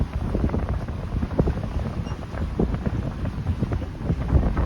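Gusting wind buffets a sailboat crossing the strait between Koh Phangan and Koh Samui off Thailand, a constant rough roar with low rumbling thumps and no voices.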